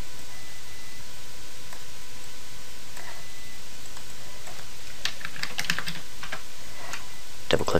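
Keys clack on a computer keyboard while code is entered in Visual Basic 2010. The clicks are close and fairly quiet over a steady hiss, with a quick flurry of strokes near the end.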